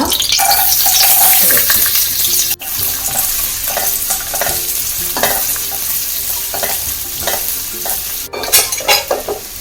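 Sliced onions hit butter and oil in a pan for pav bhaji and fry loudly, with a steady close sizzle, stirring scrapes, and a couple of sharp utensil knocks on the pan.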